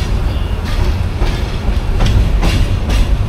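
Joyantika Express train running on rails, heard from inside as a loud, constant rumbling roar with repeated clickety-clack wheel beats at irregular intervals, with no voices.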